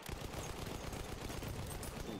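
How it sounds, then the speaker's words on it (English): Rapid gunfire in a video game, dense overlapping shots forming a loud continuous fusillade throughout. "Gunshots, what's going on?"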